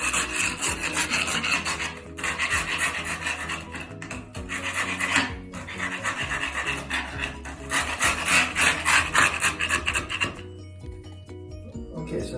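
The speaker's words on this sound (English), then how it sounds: "I'm going to use this tool. This one does a pretty good job scraping it out." Moldy caulk along a tile edge is scraped out with a hand tool in close, repeated rasping strokes, separated by brief pauses and ending in near quiet.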